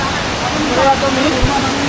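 Rushing waterfall at Ganjrai falls near Walhivare village: a dense, steady roar of falling water, close and loud, filling the whole clip without a break.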